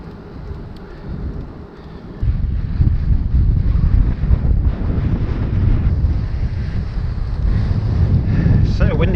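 Strong wind buffeting a microphone while riding a bicycle outdoors, a rough low rumble that jumps louder after a couple of seconds and then keeps roaring unevenly, close and dominant with nothing else clearly audible.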